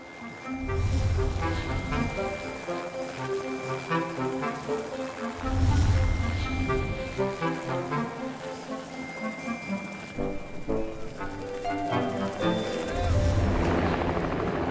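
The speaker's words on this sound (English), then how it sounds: "Using the wind from the helicopter's blades, a quick-thinking pilot pushes this Bambi to safety." A rescue helicopter hovers low, its rotor downwash blowing wind to push a young deer to safety during a deadly storm; a loud, steady rotor thrum and rushing wind, swelling and easing in waves, with faint voices beneath.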